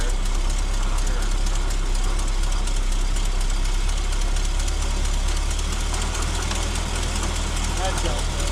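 The engine of a 1966 Ford F-250 4x4 idles with a steady, loud rumble and a faint knocking, running continuously close to the mic while people talk over it.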